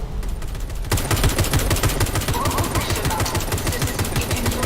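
Rapid automatic gunfire rattles in a video game, a dense, loud and steady burst of shots that runs almost the whole time.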